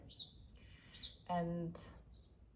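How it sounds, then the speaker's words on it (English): A bird sings outdoors beyond a window, bright high chirps returning in short bursts while someone speaks softly in the room. "There's a bird singing for us."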